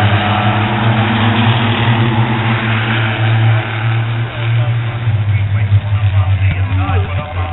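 Six-cylinder race cars roar around Spencer Speedway during a heat race, a loud sustained engine drone with steady revving that shifts slightly as the cars pass, under a race announcer's continuous commentary.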